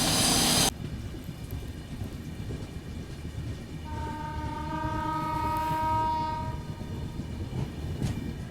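A Duronto Express train rolls slowly through Shikohabad Junction, its steady rumble joined midway by a long, multi-tone horn blast that holds for a few seconds before fading back into the running noise.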